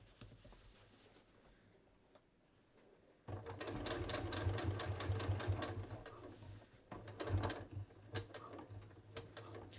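A sewing machine top stitches the hem of tapered flared ready-to-wear jeans, starting after a quiet pause and then whirring steadily with a fast mechanical ticking that briefly slows and resumes, close up.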